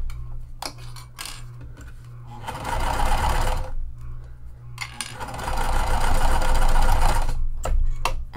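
Sewing machine stitching and backstitching fold-over elastic onto a clear vinyl tote, two bursts of rapid close mechanical whirring separated by clicks and handling noises.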